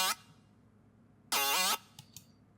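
FM synth screech lead built from a warped saw wave plays as two loud, bright, harmonically dense bursts, a short one then a longer held note, with faint blips after.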